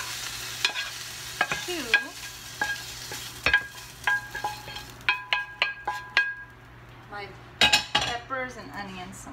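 Ham frying with hash browns in a pan brings a soft sizzle under repeated clinks and scrapes of a utensil against the pan, in a quick irregular rhythm, with a few brief words spoken.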